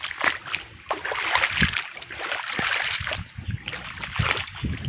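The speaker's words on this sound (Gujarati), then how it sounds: "જો આ પાણી જો આ ધોરિયાનું પાણી છે ને વાઈમાંથી વાઈ હલી નતાણે આવે છે." Water from a well runs along an irrigation channel on a farm, a continuous close splashing gurgle with uneven surges and trickles.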